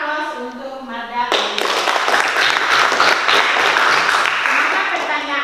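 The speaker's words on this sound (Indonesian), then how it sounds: "kita berikan aplaus untuk Marda." Applause in a classroom at a vocational high school on Kepulauan Sula: a teacher talks briefly, then a group of students breaks into steady, lively clapping that continues to the end.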